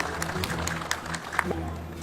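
An audience at an event honouring an architect claps in a dense, steady round of applause, with scattered sharper claps standing out above the crowd.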